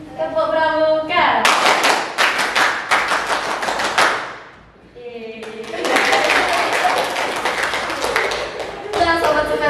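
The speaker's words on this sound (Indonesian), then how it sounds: "bisa dikasih tepuk pramuka dulu, sekali sama" An Indonesian scout group performs the rhythmic tepuk pramuka clap, sharp loud hand claps in tight patterned bursts separated by short chanted voices, with a brief lull midway before the pattern resumes.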